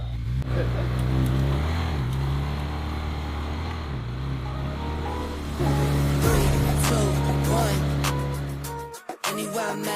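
A neglected Ferrari 360 Spider pulls away, its steady engine drone and low rumble holding close and loud before cutting off abruptly near the end, with faint voices in the background.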